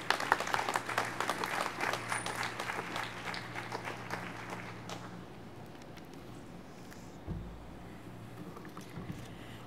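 Audience applause for a speaker at a 9/11 memorial installation ceremony, a dense burst of clapping that is loud at first and thins out over several seconds into quieter room noise.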